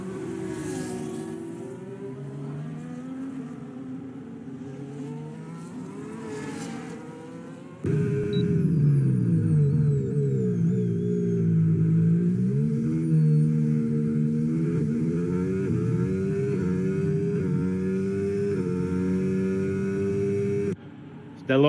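McLaren race car engine in a racing video game during Abu Dhabi qualifying, a continuous revving whine rising and falling through gear changes, louder after the first few seconds, with commentary talking over it.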